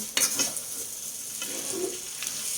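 A spoon scrapes and stirs a thick, sticky snack mixture in a pan, with a clack at the start and soft gooey sizzling and scraping, close and quiet.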